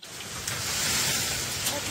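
Gusting storm wind and rain sweeping through a village in the Dordogne, a steady loud rushing wash of noise for the whole stretch, with no clear voices standing out.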